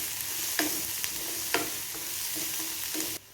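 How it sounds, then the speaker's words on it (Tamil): Onions and two cut green chillies sautéing in a pan, a constant close sizzle with a handful of spoon scrapes spread through it before the sound drops away abruptly. "வெங்காயத்தோடையே சேர்த்து 2 பச்சை மிளகாய் கட் பண்ணி சேர்த்துக்கிறேன். இதையும் சேர்த்து நல்லா வதக்கிக்கலாம்."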